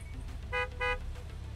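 Car horn honking at a pump in the video game Gas Station Simulator: two short, bright toots close together over a low engine rumble.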